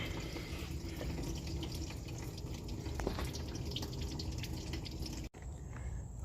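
Coolant draining from a 2014 Jeep Grand Cherokee 5.7 Hemi, a faint continuous trickle and drip of liquid, low and fairly close, with no talking.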